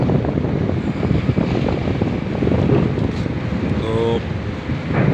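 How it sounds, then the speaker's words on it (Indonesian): Big waves at Merak harbour, Banten, on a crossing toward Bakauheni, Lampung, form a loud, continuous roar of rough water and buffeting wind, with a short voice breaking through briefly. "Ini agak gede ombaknya ini teman-teman ini."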